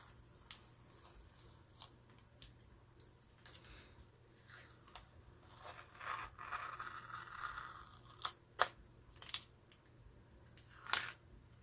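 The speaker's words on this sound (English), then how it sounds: "let's peel this up now, see what it looks like" Stencil peeled up from texture paste in a paper-crafting session, giving faint intermittent tearing and crackling peels with a few sharper rips near the end, quiet and close with no talking.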